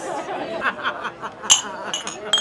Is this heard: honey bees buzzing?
no